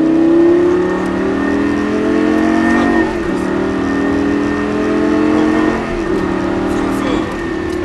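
Race car on a circuit accelerating hard at full throttle, a loud, close engine note rising steadily with two brief dips at gear changes, while a voice talks over it throughout.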